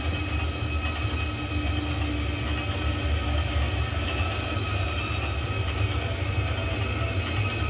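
A Shinkansen train runs along track in the Trainz video game, giving a steady, dense rumble of wheels and rail with a faint high squeal, unbroken and even throughout.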